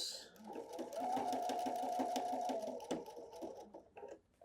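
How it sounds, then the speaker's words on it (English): A sewing machine stitches a waistband seam on a garment, running steadily with a fast mechanical whirr and rhythmic needle clatter for several seconds before slowing to a stop, close and alone. "then pivot, and sew all the way to where I sewed my waistband before"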